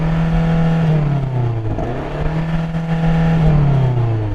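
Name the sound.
BMW M8 engine revving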